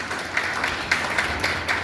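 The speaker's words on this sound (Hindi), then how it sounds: "ताली बजा दो।" An audience at a public speech applauds with a continuous patter of hand claps, swelling in a few brief bursts over a steady crowd wash. There is no speech over it.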